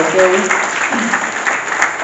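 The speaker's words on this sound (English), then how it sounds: "I invite for them a round of applause again." An audience claps together at a church gathering. The applause is loud, dense and steady and fills the whole stretch with little change.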